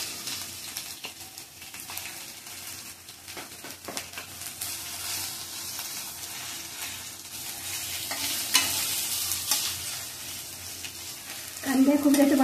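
Onion and coconut paste fries in a pan for white onion sabzi, giving a steady close sizzle with stirring scrapes throughout and a louder spatter swelling near the end.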